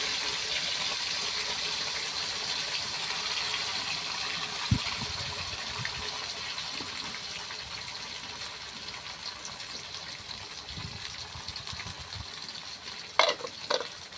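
A blended paste of mustard, ginger, garlic and green chilli goes into a hot pan for mustard hilsa, giving a steady close sizzle and hiss throughout, with a few light clinks near the end and no talking.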